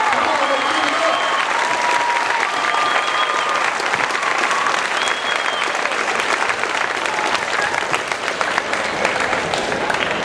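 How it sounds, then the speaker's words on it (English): A crowd at a high school Veterans Day program applauds the band in loud, sustained clapping for about ten seconds, with a few cheers and whistles rising above it. "Let's give our band a big round of applause for that wonderful rendition."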